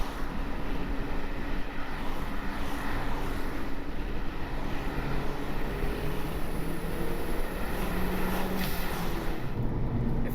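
Turbocharged Honda Civic with an R18 engine pulling steadily while driving, a continuous broad engine and road roar with no break and no voices.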